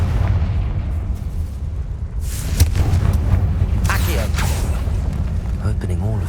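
Blasting spell explosion in the Hogwarts Legacy video game, a loud booming burst amid game effects and a voice, followed by crackling magical bursts.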